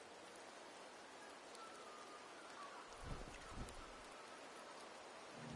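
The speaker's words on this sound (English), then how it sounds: "The rains in Septimont never seem eager to leave this season." Steady light rain falls in the Septimont area of a fantasy video game, a soft continuous patter at low volume with a few duller thumps partway through, no voices.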